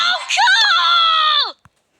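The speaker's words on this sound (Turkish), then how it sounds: "Ne bağırıyorsun abla?" A woman lets out a single shrill, sustained scream lasting about a second and a half, loud and close, then cuts off abruptly into silence.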